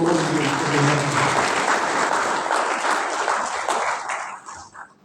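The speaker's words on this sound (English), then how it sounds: "a round of applause to the board of NBK and management" A conference audience applauds the board and management of NBK, a dense, steady round of clapping that fills the space and gradually thins toward the end.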